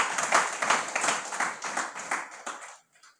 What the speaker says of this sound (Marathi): त्यांचे आपण टाळ्या वाजवून स्वागत करूयात.